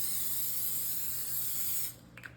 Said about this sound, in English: we're gonna do one more spray of our avocado oil so that both sides get crispy